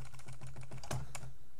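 Someone types code on a computer keyboard, a steady close run of light key clicks with one slightly louder keystroke near the middle.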